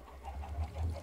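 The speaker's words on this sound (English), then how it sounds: "Maybe I can just make a chicken farm behind here." Chickens cluck in Minecraft on the Shamblecraft server, a soft series of short, low clucks repeating at an uneven pace throughout, fairly close and steady with no talking over them.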